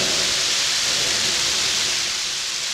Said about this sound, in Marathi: विजांचा कडकडा आणि पाऊस चालू आहे, मुसळधार पाऊस चालू आहे.